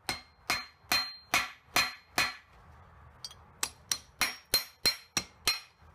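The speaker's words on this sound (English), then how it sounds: "See if we can't peen the end over on this fucker." Hammer blows peening over the end of a freshly cut metal piece, a crisp ringing strike repeated about fourteen times in two quick rhythmic runs separated by a short pause, loud and close with no talk.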